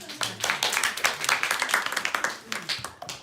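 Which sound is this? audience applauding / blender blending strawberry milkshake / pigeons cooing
audience applauding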